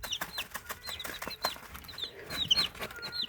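A person imitates a mother hen's pecking and clucking for day-old chicks, giving quick, irregular bursts of clicky clucks and taps up close, with faint chick peeps in between.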